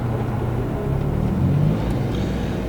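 Nitrous-fed VW Polo TDi climbing a hill, heard from inside: a loud, steady low engine drone and road rumble with little change in pitch.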